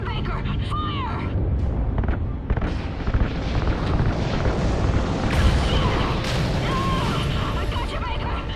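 Explosion from ignited RCS fuel lines in Call of Duty: Ghosts, set in space: a sustained, dense roar of blasts and crackling bursts, loud and continuous with no break.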